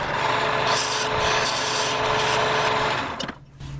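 A chisel cuts a tenon on a wooden ring post spinning on a wood lathe, giving a continuous rough scraping rasp that runs steadily for a few seconds and then breaks off abruptly.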